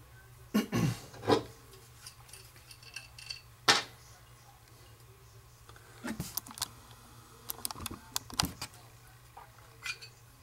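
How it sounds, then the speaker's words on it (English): Soft plastic is peeled away from a cold aluminum mold in a few short, close tearing and crackling bursts separated by quiet pauses, with light clicks and handling noises in between. "I can already peel that off."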